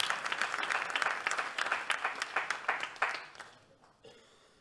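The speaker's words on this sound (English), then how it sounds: "a hand of applause for this fine man" An audience at a startup fair stage event applauds a volunteer joining the speaker, dense clapping for about three seconds that thins out and fades, with a few isolated claps near the end.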